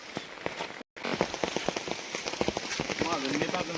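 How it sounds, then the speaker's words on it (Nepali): Monsoon rain patters densely on surfaces in a rural Nepali village, close crackling drops in a fast irregular rhythm, with a voice speaking faintly under it near the end. "झरी"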